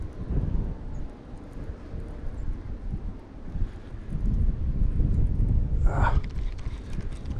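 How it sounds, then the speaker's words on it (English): Steady wind buffets the microphone through the whole stretch, a low rumbling gust on an open fishing spot, with a brief higher rattle near the end. "That wind is just carrying them at us."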